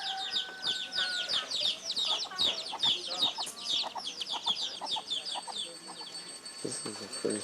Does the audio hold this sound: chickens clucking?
yes